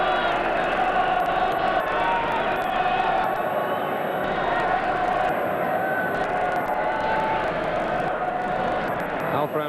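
Large crowd of England supporters roaring and cheering in a football stadium during an England v Scotland match, a dense, sustained wash of noise from many voices with a commentator talking over it.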